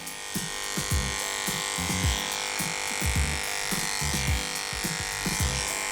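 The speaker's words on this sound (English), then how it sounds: "then I'm gonna move to the front and support his leg as I clipper the rest." Wahl professional electric clippers buzz steadily close up while grooming a dog's leg, with a throbbing pulse as the blades move through the coat.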